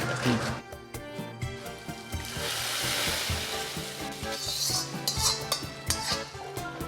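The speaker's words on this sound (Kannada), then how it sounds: "ಈಗ ಬೆಳ್ಳುಳ್ಳಿ ಸ್ವಲ್ಪ ಕೆಂಪಾಗಿದೆ." Hot oil sizzles steadily with garlic tempering as a metal spoon clinks and scrapes against a pan, close and busy throughout.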